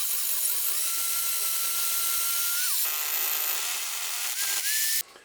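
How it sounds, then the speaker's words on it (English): A power drill with a 16mm bit bores through an exterior wall to install an outdoor electrical socket, giving a loud, steady whine that shifts in pitch midway and then cuts off abruptly near the end. "this time I'm going to use a 16mm drill bit"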